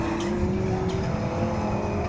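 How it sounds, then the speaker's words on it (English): A Subaru rallycross car accelerates on the Croft circuit: a steady, close engine drone holds a high note with faint tire noise, running continuously throughout. "Liam Manning with the back sliding around there on the Subaru, accelerates now into the right at Hawthorne"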